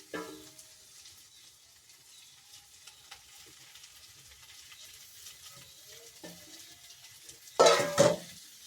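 Ground paste is stirred into an ivy gourd curry cooking in a pan, with soft scraping and faint sizzling for several seconds, ending in a louder clatter of a spoon against the pot.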